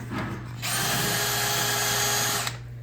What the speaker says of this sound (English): Let's try to drill it out.